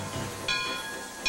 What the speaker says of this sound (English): ride a steam train through the redwoods